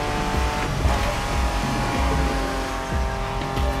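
Ford Bronco driving in The Crew Motorfest on Oahu, a steady loud engine drone with low rumble and occasional tire noise, continuous throughout with no talk.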